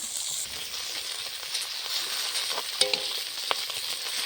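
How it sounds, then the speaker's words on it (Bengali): A fish head and tail fry in oil in a pan, producing a steady close sizzling hiss with a few sharp pops and a faint utensil tap, with no talking. "মুড়োটার লেজাটা ভাজা হয়ে গেছে, এখন নামিয়ে নেব"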